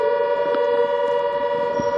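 A steady, droning air-raid siren sounds continuously near the Rajasthan border during a drone alert, holding a sustained tone throughout without breaks.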